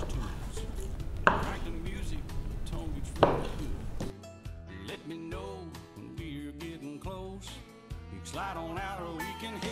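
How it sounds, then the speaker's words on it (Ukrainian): A Mora Garberg knife slicing meat for shashlik on a board, two sharp chopping knocks in the first few seconds, then someone talking over background music. "М'ясо мора ріже абсолютно без проблем."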